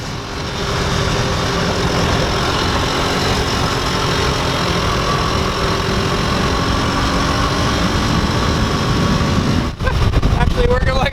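Cheap golf cart engine running and driving, a loud steady close drone with low rumble throughout, briefly dipping near the end, with a voice talking over it.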